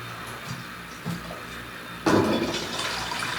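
Water pouring into a large container for bathing, a softer trickle at first, then a louder steady gush of filling that continues to the end, heard up close with no speech.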